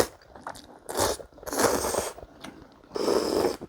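Someone eats Nongshim Sun ramen noodles up close, with bursts of slurping and chewing in a few separate mouthfuls.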